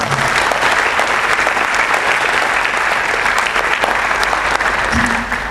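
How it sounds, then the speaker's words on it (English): A graduation ceremony audience at Father Muller Homoeopathic Medical College, Mangalore, applauds prize winners with loud, steady clapping that carries evenly throughout. "Audience, please give a round of applause."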